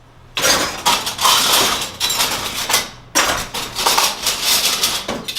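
Metal serving spatulas and spoons from a dish pit clatter loudly into a fish tub in two long, jangling bursts, with dense clinking and rattling throughout.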